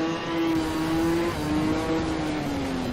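A race car engine in the Ridge Racer video game, a loud steady high whine that holds, then drops slightly with a shift and slowly falls in pitch, no voices.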